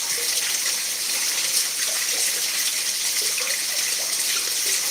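Water gushes into an irrigation channel in a constant, loud, hissing rush close by, steady throughout with no pauses.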